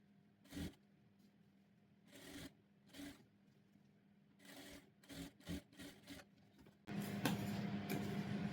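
A sewing machine stitches a handkerchief skirt with lining. Short mechanical bursts start and stop, then it settles into a steady, louder run at the end. The machine is close and quiet overall, with no talking.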